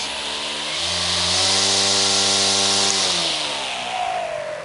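An EGO ST1511T cordless electric string trimmer spinning up to high speed, a smooth motor whine that rises in pitch, holds steady at full speed, then begins winding down, close and continuous.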